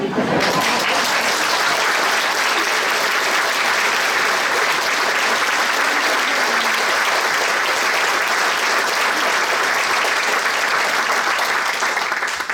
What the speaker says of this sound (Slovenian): Res si zaslužijo aplavz